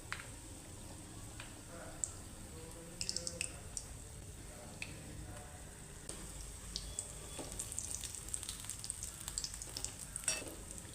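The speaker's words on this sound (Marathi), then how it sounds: "थोडं गोल्डन ब्राऊन होतोपर्यंत आपल्याला ह्याला तळून घ्यायचं आहे." Vada pav fritters deep-frying in hot oil, Mumbai style, give a steady close crackling sizzle with scattered bubbling pops and light clicks all the way through.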